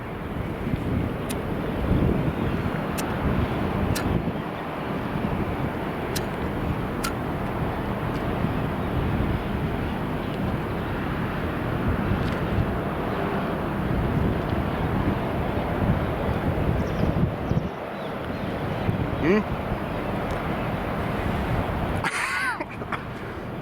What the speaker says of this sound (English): Wind's gonna kill me here.